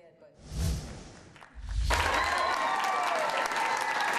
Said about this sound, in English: Tyra Banks walked into a pre-conference reception to rousing applause